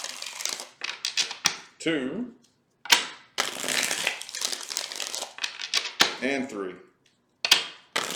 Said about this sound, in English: let's get 3 shuffles